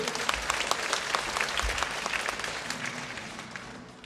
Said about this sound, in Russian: под ваши бурные аплодисменты